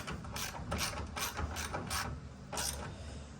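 A hand ratchet tightens a 13 mm bolt on the tailgate of a 1999–2006 Chevrolet Silverado, several quick rhythmic clicking strokes with brief pauses between them, close and clear with no talking.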